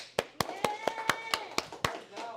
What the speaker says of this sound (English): Everybody give everybody at home a round of applause